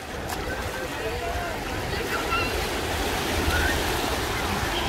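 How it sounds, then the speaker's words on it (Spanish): Surf washes steadily at San Agustín beach in Huatulco, Oaxaca, a continuous rushing roar of low tide waves with wind, heard up close and fairly faint with no distinct breaks. "Dándola toda por sobrevivir de esas olas."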